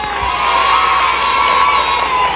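A studio audience at a QUBE television broadcast cheers loudly and continuously, a dense, close wash of crowd voices and whoops that stays strong throughout.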